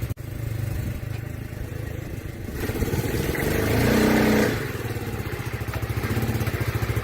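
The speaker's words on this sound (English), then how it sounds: "So that's definitely locking that brake up, which is a good sign." A Boom trike engine runs loud and steady as it brakes hard with one wheel locking, giving a sustained close motor drone that swells briefly in the middle before settling back to a rough idle.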